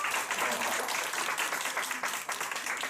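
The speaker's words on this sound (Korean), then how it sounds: "우리 중고등부 친구들한테 박수 한번 보내주세요" A church congregation applauds its middle and high school youth group with dense, sustained clapping from many hands that fills the room at a steady level throughout.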